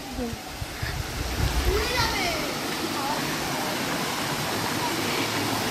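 Water rushing over small monsoon-season waterfalls and streams near Ghatshila, a dense steady outdoor roar of flow with a slight breezy wash throughout.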